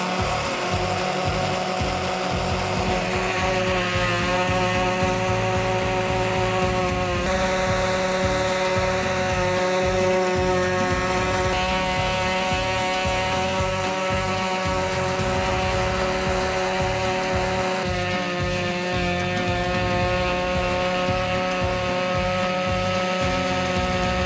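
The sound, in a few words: power buffer buffing epoxy off black walnut board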